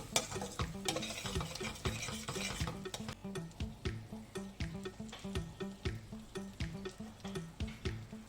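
Spoon stirring coriander leaves through palak paneer in a pan, a steady rhythmic scraping and tapping repeated at close range over a faint sizzle, with no voices.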